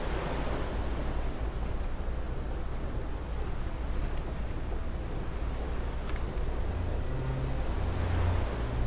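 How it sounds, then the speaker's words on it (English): Heavy ocean waves and wind around a sailing vehicle in the game Far: Changing Tides, a dense continuous roaring wash that stays steady and loud throughout, with a low engine-like hum creeping in near the end. "Got some heavy waves here."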